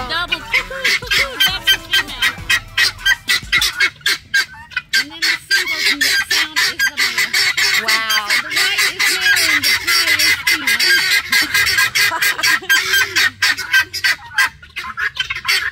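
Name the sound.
guinea fowl calling, double-note female calls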